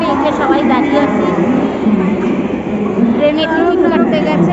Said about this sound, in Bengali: চলে আসলাম হাওড়া স্টেশনে